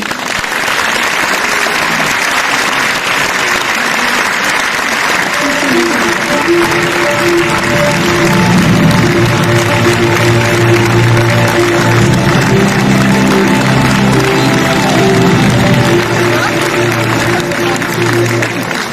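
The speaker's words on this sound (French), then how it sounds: "d'applaudir pour Philippe Carcassonne et Christina Zimmerman" A film premiere audience applauds steadily for the producers, a dense, loud wall of clapping that runs throughout, with faint voices and a low hum underneath.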